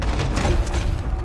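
Gunfire in the Western video game Red Dead Redemption 2, a loud, dense burst of booming shots packed into about a second with no pause between them.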